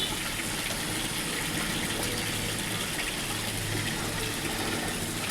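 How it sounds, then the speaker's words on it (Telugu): Steady gush of running water as vegetables are washed before boiling in a pressure cooker, continuous and close with no pauses or voices. "ఇవన్నీ కడిగేస్తానండి, కడిగేసి అప్పుడు కుక్కర్లో వేసి ఉడకబెడతాను"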